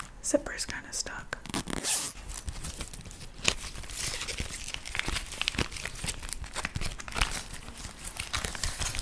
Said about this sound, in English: Zipper's kind of stuck.